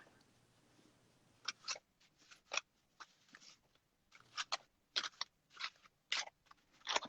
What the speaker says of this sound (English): I'm really trying to shuffle these, y'all.